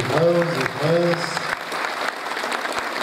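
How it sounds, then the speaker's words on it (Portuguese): Congregation at a religious pilgrimage in Ibiquera claps for visiting missionaries, a continuous patter of applause that starts under a brief voice and then carries on alone at moderate distance. "Vamos dar uma salva de palmas, meus irmãos e irmãs."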